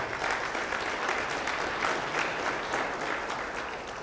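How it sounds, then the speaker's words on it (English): An audience at the Bexar County State of the County address claps steadily in a large room, a dense sustained wash of applause at even loudness with no voices standing out. "Just give yourself a round of applause for winning Prop"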